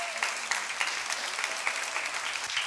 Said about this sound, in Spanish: Un aplauso para chavos que vienen de Cancún